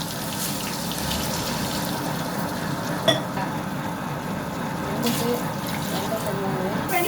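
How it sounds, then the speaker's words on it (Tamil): Water pours steadily into a cooking pot of mutton and basmati rice for biryani in a continuous splashing stream, close by, with a light metallic clink partway through. "இப்போ தண்ணி ஊற்றலாம்."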